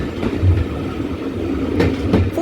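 Steam tank locomotive 4247 in British Railways black running on the Paignton and Dartmouth heritage railway between Kingswear and Paignton, a loud close rumble with rhythmic wheel and rail clatter throughout.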